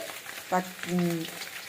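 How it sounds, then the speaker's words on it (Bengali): Shrimp fries in a pan with a steady soft sizzle, while a brief voice sounds over it. "ওই চিংড়ি মাছ দিয়ে ভালো করে ভাজতে হবে।"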